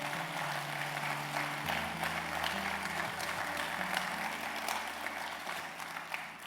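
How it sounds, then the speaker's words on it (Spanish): A church congregation claps during a Spanish-language prayer service, continuous applause over sustained low organ or keyboard tones, with no speech over it. "denle un aplauso, claro que sí."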